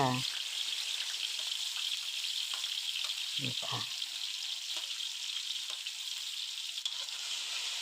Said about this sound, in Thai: ก่อนอื่นก็เอา พริกลงกระทะก่อนค่ะ